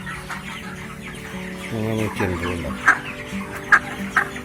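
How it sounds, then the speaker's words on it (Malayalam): A flock of 27-day-old broiler chickens clucks and peeps continuously nearby, with a few sharper calls standing out, under a brief spoken remark. "ഇത് 27 ഡേയ്സ് പ്രായമുള്ള കോഴികളാണ്."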